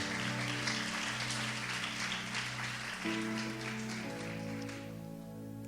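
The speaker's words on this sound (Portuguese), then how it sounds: "O Evangelho, pode aplaudir a palavra" At a spiritual retreat service, a church congregation applauds in a dense, rain-like patter over steady music, and the clapping stops abruptly shortly before the end.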